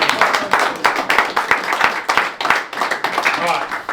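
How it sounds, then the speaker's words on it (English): Members of an amateur football team clap for two players, close, uneven hand claps in quick bursts, with voices talking over them. "fucking round of applause for these two"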